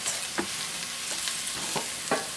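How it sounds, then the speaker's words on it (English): Onion and crushed garlic frying over medium-high heat in a pan for shakshuka, a steady soft sizzle with four brief stirring scrapes spaced through it, close and fairly quiet. "Add the crushed garlic. Cook for half a minute"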